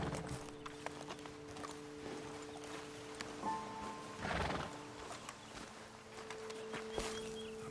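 Horses in the video game Red Dead Redemption 2 whinny and snort over steady clip-clop hooves, with a louder neigh midway against a faint outdoor background and a low humming tone.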